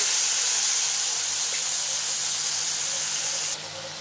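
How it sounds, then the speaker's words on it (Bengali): Water poured into a pan of lightly fried khoira hilsa fish being cooked with mustard paste gives a steady, close hiss and splash that runs unbroken before dropping off sharply near the end. "এবার দিয়ে দেব পরিমাণ মতো একটু জল"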